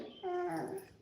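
A dog lets out one short, high whimpering whine lasting under a second, faint and fairly close, against a quiet background.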